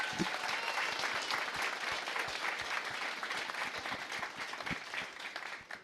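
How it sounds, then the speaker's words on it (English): At a township school board meeting, a crowd claps for safety program advisors, a full, steady burst of many hands with a few sharper individual claps standing out. "Let's give them a big round of applause."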